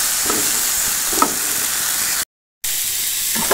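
Chopped kalmi greens (water spinach) frying in a pan, a steady close sizzle with soft stirring scrapes, broken by a brief total dropout before the frying hiss continues.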